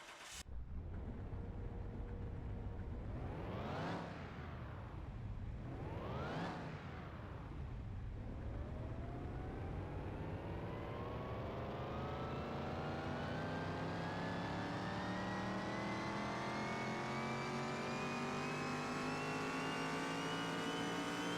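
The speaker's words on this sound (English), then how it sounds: "Listen to that supercharger whine." A 1,200 horsepower drag racer in Car Mechanic Simulator 2021 revs twice on the dyno, then pulls one long, loud run with a rising supercharger whine that climbs steadily to the end with no voices over it.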